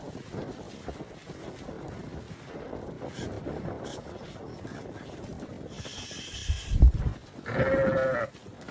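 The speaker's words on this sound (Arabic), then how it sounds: "خوش غنم يا رب، خوش غنم" Naimi sheep bleat outdoors in wind, one loud nearby bleat rising near the end over gusty, rumbling background noise.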